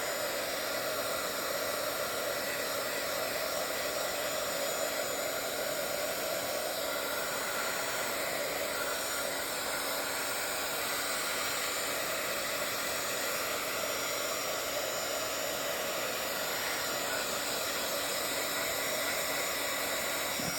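A hair dryer blows steadily on a wet Bible journal page, a constant close whooshing hiss with a faint motor whine, unbroken for the whole stretch.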